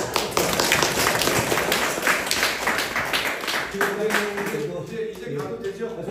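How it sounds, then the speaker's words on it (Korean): An audience at a graduation ceremony for horse-heritage guides in Jeju claps enthusiastically, with a dense burst of many hands that thins out toward the end, and a few murmuring voices underneath. "박수"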